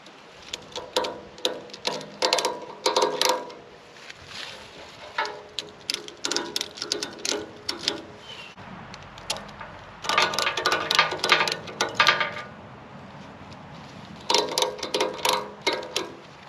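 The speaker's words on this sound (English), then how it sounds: "Now we just start pulling and ratcheting each one a little bit at a time." Ratchet straps tighten a chain link fence outdoors, giving bursts of quick metallic clicking ratchet strokes that come in clusters with short pauses between, close and clear with no talk.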